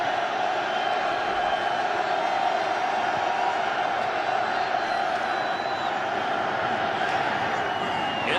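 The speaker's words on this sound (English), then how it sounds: "the Raven fans that have hung around in the cold and rain are cheering on this defense" Baltimore Ravens fans in a cold, rainy NFL stadium roaring for their defense against the Lions, a sustained, dense crowd noise with scattered shouts and whoops under a steady wash of voices.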